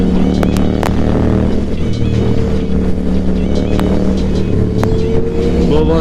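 Lamborghini Huracan Performante supercars driving ahead while being followed on a Yamaha MT-07 motorcycle, a loud steady engine roar with rushing wind and occasional sharp clicks, no talk.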